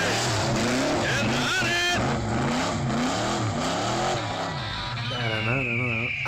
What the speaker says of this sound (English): going for a burnout, and he always does that with his Oldsmobile